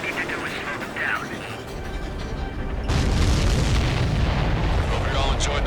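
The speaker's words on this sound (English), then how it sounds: "That's a confirmed direct hit by the missile." Missile explosions in the combat flight game Ace Combat 7, heard as loud, rolling booms and rumbling blasts under radio-style voices, swelling louder midway through.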